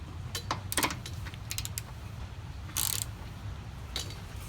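A bolt is pushed in and threaded during a vehicle suspension install, giving scattered sharp metallic clicks and brief ratcheting bursts over a low, steady background rumble, with no one talking.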